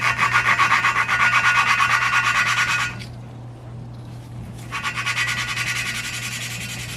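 A valve being lapped into a cylinder head seat with gritty compound, a loud rasping back-and-forth grind that pauses for about two seconds and then resumes, up close and alone.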